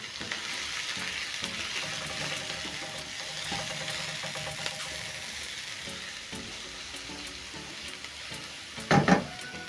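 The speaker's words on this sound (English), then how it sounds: "I'm going to add in some carrots and green capsicum" Carrots and green capsicum frying with spices in a pan for a turmeric rice stir fry, a steady close sizzle with occasional stirring scrapes and a brief louder clatter near the end.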